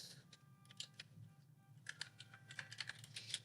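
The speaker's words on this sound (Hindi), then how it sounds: "और इस पर मैं टाइप कर देता हूँ" Keystrokes patter on a computer keyboard while page layout text is entered, a quiet run of irregular clicks that thins out midway and then picks up again in denser bursts.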